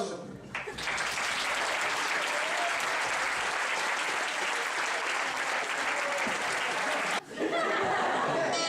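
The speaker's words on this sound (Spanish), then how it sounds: "E quero que lle dedes un forte aplauso." An audience at a school concert breaks into strong, sustained applause that fills the hall for several seconds, dips briefly near the end, then resumes, with faint chuckles mixed in.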